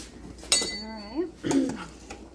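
A metal spoon clinks against a small saucepan of simmering pineapple habanero jam, giving one sharp ring and then a few softer scraping knocks, close and fairly quiet.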